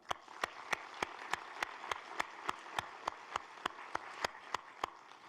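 Sparse, evenly spaced claps ring out for board members at a university state-of-the-address event, a thin scattering of individual hand claps at a steady rhythm, fairly quiet and distant in a large hall.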